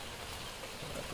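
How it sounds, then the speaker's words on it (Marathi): Light rain falls with a soft, steady hiss, faint and even throughout, and no one speaks. "छत्री घ्यायला लागले. पाऊस आहे थोडा."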